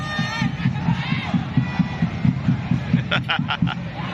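Bangkok United supporters at a Thai League football match chant in a steady rhythmic cadence, with drum-like beats under the massed voices and a few sharp claps or bangs near the end.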